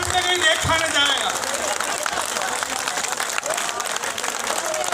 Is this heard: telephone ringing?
no